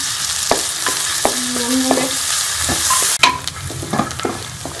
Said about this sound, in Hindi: कढ़ाई में मैंने घी डाल दिया, उसके अंदर मैं ये प्याज डाल दूंगी